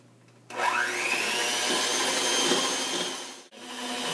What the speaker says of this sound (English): Now I'm going to continue doing this, mixing it, and it will turn into butter.